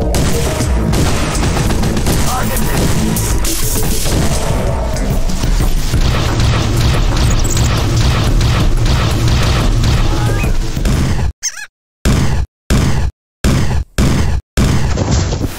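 Weapons fire in the 2003 futuristic shooter video game Chrome, a loud dense barrage of shots and booms filling the scene, then breaking off into a few short cut-off bursts at the end.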